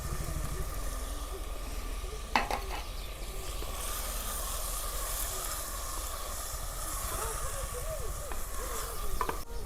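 Tomatoes going into a hot pan for rasiya bhat, a Gujarati spiced rice dish, with a steady sizzling hiss throughout and a couple of brief clatters of stirring, close and fairly loud, without talk.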